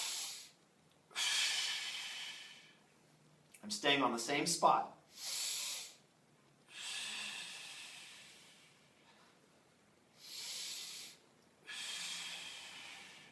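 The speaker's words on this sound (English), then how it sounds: "You can hear my breathing." Slow, loud breaths hiss in and out through the nose in regular cycles during a neck and upper back mobility exercise, with someone speaking briefly between two of the breaths.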